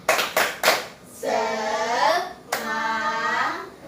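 Fourth-grade schoolchildren in a classroom do a rhythmic 'tepuk semangat' clapping routine: a few crisp claps come first, then the children chant together in long, sustained voices.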